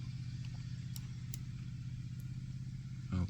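A DIY autonomous robot lawn mower built on an ArduRover platform turns on grass, its steady motor hum running throughout with a brief louder burst near the end.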